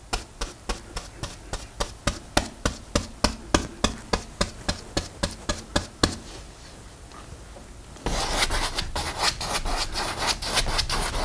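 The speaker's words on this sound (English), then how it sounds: "So you're making little X's, little crisscross strokes, go all the way across the canvas." Paintbrush dragged in crisscross strokes across canvas, heard as a steady train of close, rhythmic scrubbing swipes for about six seconds, a brief lull, then denser continuous brushing.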